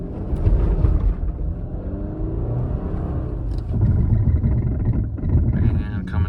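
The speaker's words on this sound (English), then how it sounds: "we'll do a full throttle acceleration and see how fast we get up to 20 miles an hour" A car on Michelin X-Ice winter tires accelerates at full throttle across snow, giving a loud, steady low engine rumble with wind buffeting the microphone and a voice over it.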